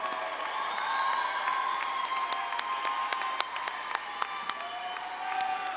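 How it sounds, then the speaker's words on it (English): A big round of applause with cheers and shouts from a crowd at a high school commencement for KIPP East End graduates, with steady clapping, scattered sharp claps and whoops. "Let's give them a big round of applause."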